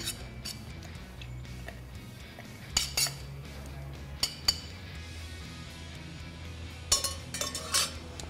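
Bar spoons and glassware clink and tap lightly while ingredients are muddled for a non-alcoholic cocktail, a few scattered sharp knocks over a quiet background.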